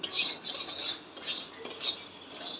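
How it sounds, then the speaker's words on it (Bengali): Repeated scraping and clinking of a metal spoon stirring peanuts frying in a pan, quick strokes coming in short bursts, close and fairly quiet. "বাদাম ভাজা করছি"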